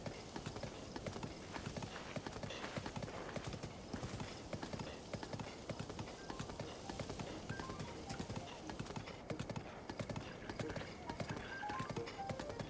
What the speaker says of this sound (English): I think this is a decent-sized horse for whoever that guy was.